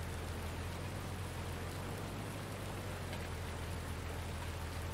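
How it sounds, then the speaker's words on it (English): Rain in the video game Farming Simulator 19, a dense, constant hiss of heavy rainfall on a farm, steady and even for the whole stretch with no talking. "The amount of rain that we're having on here is just not going to dry any crops out that grow."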